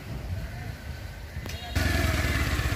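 A black second-hand Bajaj Pulsar 150cc motorcycle with 12,143 km on it runs at a low, rumbling idle. After a thud, the engine grows noticeably louder and steadier. Some talk is present.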